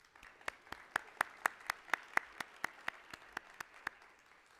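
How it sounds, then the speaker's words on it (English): A small number of people clapping at a CEO conference, with sparse, distinct claps in a steady, even rhythm that stay fairly close and modest in loudness throughout. "please, in giving them a round of applause."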